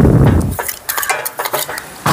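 A spoon scrapes and clinks against a cooking pot while stirring ground onion paste for an Andhra-style fish curry. The scrapes are close and irregular, with a few sharp metallic knocks over roughly two seconds and no speech.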